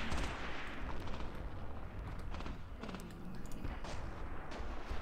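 Soldiers firing in the WWII tank-and-infantry game Graviteam: Mius Front, German campaign: a continuous rattle of gunfire and scattered sharp shots over a dense battlefield din, steady and moderately loud throughout.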